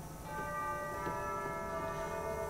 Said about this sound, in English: There's two sets of chimes, small chimes, which are called the cathedral chimes.